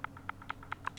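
Quick, light taps on a computer keyboard, about half a dozen soft, evenly spaced clicks close by in a quiet room.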